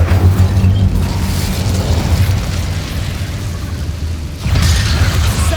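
An Incendio fire spell is cast in a goblin battle in the video game Hogwarts Legacy: loud, dense roaring bursts with rumbling low end, strongest at the start and again near the end, over continuous battle noise.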